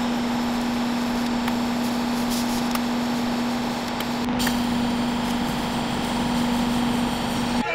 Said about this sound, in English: We're gonna try and weld this fitting into this pot.